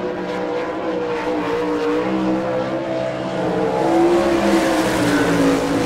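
A race car howls around Rossburg speedway in Ohio on a qualifying lap during an All Star Circuit of Champions sprint car event, its sustained engine drone shifting in pitch and swelling louder as it nears.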